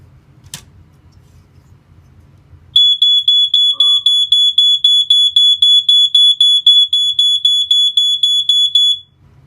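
A First Alert SA88 smoke alarm horn beeps rapidly in a steady, loud series of piercing tones, continuing for several seconds after a short stretch of quiet room noise.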